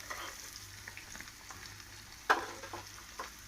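Turmeric and ginger frying in oil in a pan, a soft steady sizzle broken by the scrape and tap of a spoon stirring, with one sharper clink partway through.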